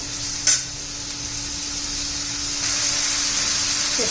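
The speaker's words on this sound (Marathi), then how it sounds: "चांगलं दोन तीन मिनिट परतून घेऊया" Tinda (dhemsa) sautés in a pan with a loud, constant hissing sizzle, one brief spatula scrape near the start and the frying growing slightly stronger toward the end; no speech.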